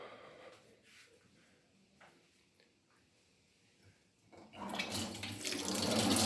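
Water from a tap at a house with a yard in the Bileceri settlement begins quiet, then gushes louder and louder as the flow opens up and fills the space nearby.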